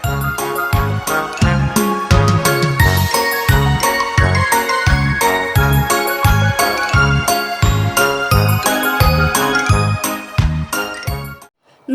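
Small bells jingle continuously and loudly over a rhythmic musical backing with steady low beats, bright tinkling throughout.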